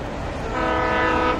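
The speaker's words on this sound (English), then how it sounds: "Oh look a train." A train passing in the game Alan Wake Remastered, a loud, steady rumbling roar with a sustained horn-like tone over it, close and continuous with no speech.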